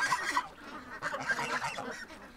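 A goose honks in short, loud bursts close by, two quick honks then a longer run of calls, with other fowl nearby.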